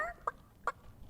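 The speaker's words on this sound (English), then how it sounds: "Don't let that rooster escape." A rooster in the Divinity Original Sin EE video game gives three short, close clucks spaced about half a second apart over a faint steady background hum.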